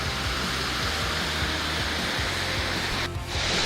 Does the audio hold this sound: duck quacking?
no